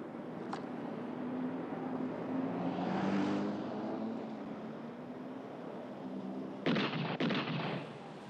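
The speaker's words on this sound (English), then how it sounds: "responding to gunshots fired inside our stakeout" Gunshots fired inside a house, heard as a few muffled sharp bursts close together near the end, after a long stretch of low rumbling background.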